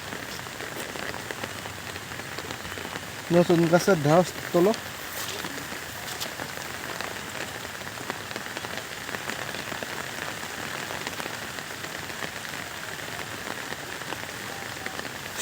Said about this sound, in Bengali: আর সে বৃষ্টি প্রচুর বৃষ্টি